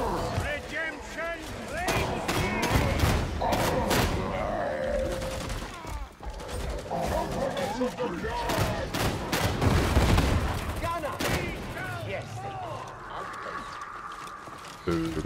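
Gunfire and grenade blasts in Warhammer 40K Darktide, a dense barrage of loud bangs and thuds layered over game effects, with voices talking throughout.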